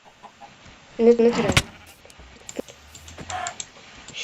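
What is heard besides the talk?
chicken clucking in a video game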